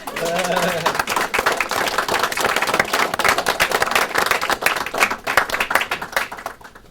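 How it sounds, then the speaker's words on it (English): A round of applause from an oral history event audience for the executive director, brisk crowd clapping steady for several seconds with a voice briefly heard at the start. "please give a round of applause to our executive director and big cheese, Mr. Loren Schoenberg"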